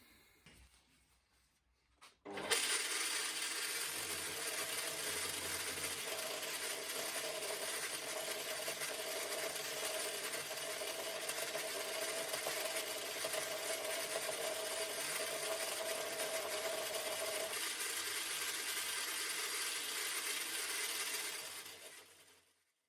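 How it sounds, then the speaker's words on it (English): A small, cheap electric sander runs on a part for a Ford Focus V8 project car, a steady loud abrasive whirr holding for about twenty seconds before winding down. "So I'm going to do it on my really rubbish little sander right there."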